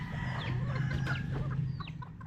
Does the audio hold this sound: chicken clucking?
yes